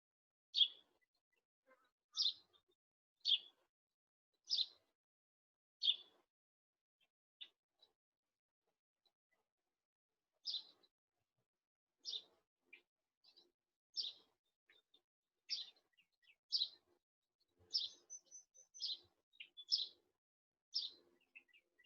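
Short, high bird chirps ring out one at a time in a quiet setting. They are spaced a second or two apart and grow busier toward the end, clear but not loud.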